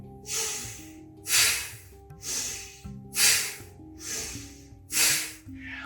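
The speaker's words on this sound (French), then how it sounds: "Inspire par le nez et expire par le nez" Slow nasal breathing during a guided breathing exercise, six long airy breaths alternating inhale and exhale, each swelling and fading smoothly, close and clear with no talking.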